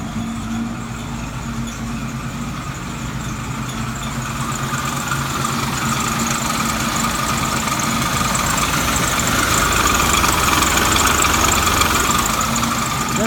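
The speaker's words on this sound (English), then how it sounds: "That's the alternator making that squeak." A 1967 Mustang with electronic ignition idles steadily nearby, a low rumbling drone with a thin, persistent high squeal from the alternator riding on top, the engine growing slightly louder toward the end.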